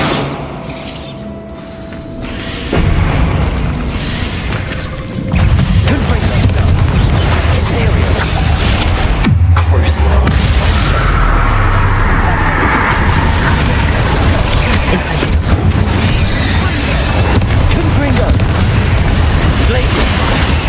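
Booming spell blasts from the Bombarda charm in Hogwarts Legacy, heavy low rumbles rolling through a dense, continuous game soundscape, with a voice speaking over the din.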